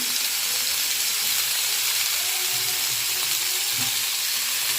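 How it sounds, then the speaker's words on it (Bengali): Vegetables and papaya pieces fry with salt in a pan, giving a constant close, hissing sizzle that holds evenly throughout with no pauses. "দিয়ে ভালো করে নুনটা মিশিয়ে নিয়ে সবজিগুলো একটু ভেজে নেব"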